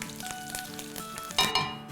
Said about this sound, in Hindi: और अगर आपके पास कड़ी पत्ता है तो आप वो भी डाल दें।